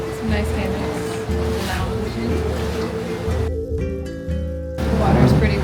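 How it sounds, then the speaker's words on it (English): Waves wash steadily at a resort's swimming and kayaking area at Hotel Casa del Mundo, a continuous surf roar under wind and a person talking nearby. "The water's pretty wavy."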